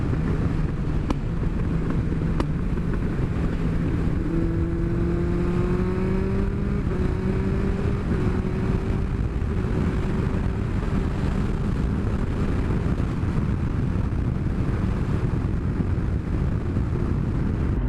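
A 2005 Yamaha FZ1 Fazer motorcycle with a HealTech quickshifter rides steadily, its engine note rising through several quick upshifts under heavy wind rush, loud and continuous.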